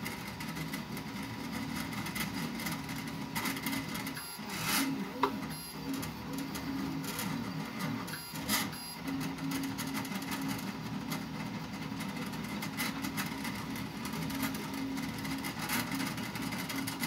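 QQS Pro 3D printer running its first print, a continuous loud mechanical whir with repetitive ticking motor steps and a low hum, steady and close, with no voices.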